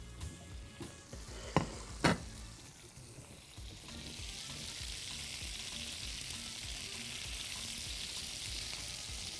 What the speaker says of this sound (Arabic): كده انا بسوي الكفته في الايه؟ في اللية.